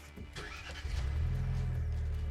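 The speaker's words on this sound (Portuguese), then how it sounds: "Na hora de ligar o Fiat Pulse Abarth," A Fiat Pulse Abarth with its 1.3 turbo engine and special exhaust cranks briefly, then fires and settles into a deep, steady idle rumble, close by and alone.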